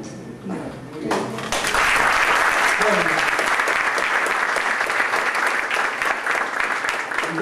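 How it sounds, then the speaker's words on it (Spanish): A Latin American unity lecture audience breaks into loud, sustained applause for the Ecuadorian embassy minister-counselor, swelling quickly after a moment of murmuring and holding steady to the end. "este aplauso es para la ministra consejera de la Embajada de Ecuador"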